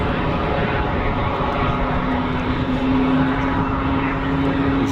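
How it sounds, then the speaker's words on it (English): An easyJet Airbus A320ceo taxiing at Geneva Airport, a continuous engine rumble with a steady humming whine rising through the middle, nearby and fairly loud, with no voices. "easyJet finally on the taxi."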